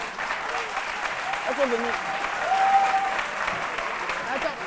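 Applause from an audience at the MASA 2016 arts market broadcast, a steady patter of clapping under a voice talking over it, the clapping swelling slightly midway.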